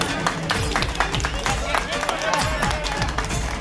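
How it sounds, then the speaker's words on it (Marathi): A large audience claps loudly and continuously at a 2025 sports festival prize-giving ceremony, dense crowd applause filling the space with steady crisp hand slaps throughout. "जोरदार टाळ्या द्यायला पाहिजे"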